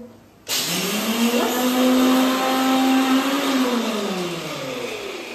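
An electric mixer grinder whirs in a kitchen, switching on abruptly with a loud motor hum that holds steady for about three seconds and then winds down in pitch while still running.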